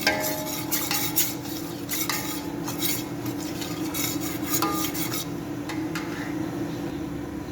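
A spoon scrapes and clinks against a pot in irregular strokes while flour roasts, over a steady low hum, with no voices.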